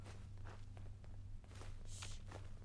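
Footsteps in the video game Fallout London, a series of soft, irregular steps at moderate distance over a steady low hum, with no talking.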